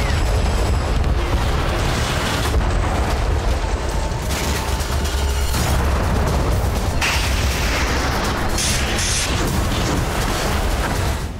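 A fighter jet hit by a Patriot missile explodes: a loud, continuous roar of blasts and heavy low rumble, with sharp cracks breaking through for over ten seconds and no pause between them.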